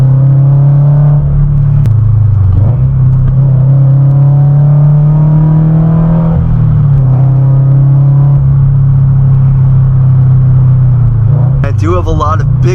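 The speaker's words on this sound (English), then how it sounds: "My car sounds so good right now." A modified Subaru BRZ drones steadily while driving, its low engine and exhaust rumble holding under continuous talking, with a brief rise in revs near the end.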